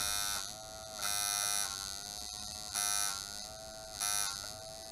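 A rotary tattoo machine with rubber band tension runs in short bursts, buzzing on and off four times in a regular rhythm, loud, close and high-pitched, with no speech.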